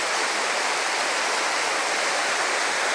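Fast-flowing water rushing through the Annan River gorge, a steady loud broadband roar with no breaks and no voices.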